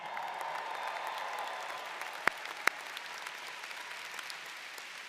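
A high school drumline gets fairly faint, sustained applause from the audience at a university baccalaureate ceremony. The clapping is steady and distant, and two sharp louder claps stand out briefly.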